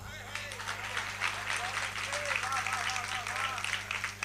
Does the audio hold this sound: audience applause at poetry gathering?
yes